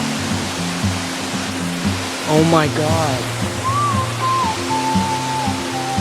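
A waterfall pouring into a pool on a Hawaii hike gives a broad, constant rushing roar throughout, while people talk and exclaim over it and a thin whistle-like tone drifts in partway.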